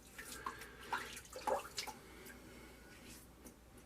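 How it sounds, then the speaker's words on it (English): Water splashes as a man wets his face at a sink before a wet shave. A few soft, close splashes and drips come in short bursts, quiet, with no talking. "Okay, I'm gonna wet my face, kind of to start with."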